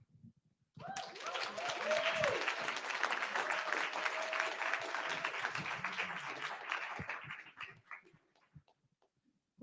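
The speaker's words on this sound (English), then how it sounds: "give them another round of applause" Applause from an audience at an activist panel event on Citigroup and environmental racism, swelling in suddenly and holding as a dense roar of clapping with a voice calling out early, then fading away near the end.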